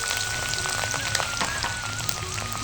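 Capsicum drops into hot oil already seasoned with bay leaves and whole garam masala, setting off a steady, dense sizzle at moderate level that carries on without pause.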